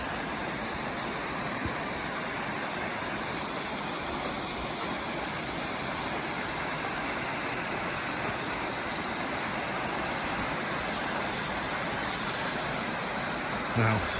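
Delphi Falls in Madison County, New York, a waterfall in wintry, icy surroundings, roaring as a steady, dense, broadband rush that holds constant throughout with no talk.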